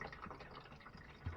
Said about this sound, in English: So we're getting a little bit of water.